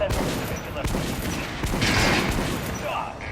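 Dense, continuous gunfire from weapons in the video game Metro Redux, a sustained barrage of overlapping shots at steady loudness with no pauses.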